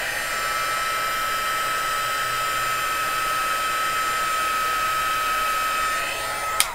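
A heat tool runs steadily to reheat embossing powder, a loud constant blowing whine held close for several seconds before it cuts off with a small click at the end.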